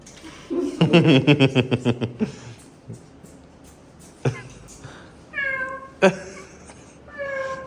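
A cat meows repeatedly, starting with a rapid rhythmic burst of short cries, then several drawn-out, higher meows spaced apart, close and fairly loud.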